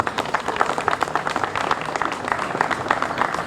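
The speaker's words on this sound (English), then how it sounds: "let's give them a rounding round of applause after I list their names" Audience applause for city commissioners at an outdoor street renovation celebration, a dense run of many hands clapping, fairly close and continuous from start to end.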